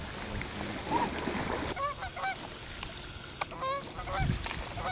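Canada geese honk in short bursts over a steady outdoor wash on water in Michigan, with a few wing flaps or splashes and a distant low rumble.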